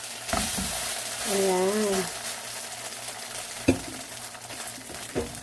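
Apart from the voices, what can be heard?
Samyang ramyeon frying in a frying pan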